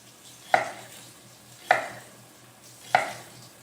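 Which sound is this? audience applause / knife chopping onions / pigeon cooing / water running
knife chopping onions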